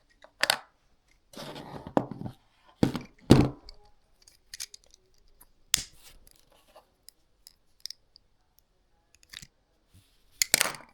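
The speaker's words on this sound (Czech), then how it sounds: "Teď jdeme zapálit svíčku." A lighter is flicked to light a small candle under a mini pan for an omelette, giving a series of sharp, close clicks and scrapes spaced irregularly over a quiet background.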